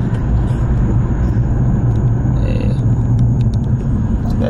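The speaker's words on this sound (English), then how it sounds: "right now I'm just driving around the block" A BMW E46 330i in second gear cruises around a residential block, its engine a steady, loud low rumble with road noise filling the whole stretch, no pauses and no talk.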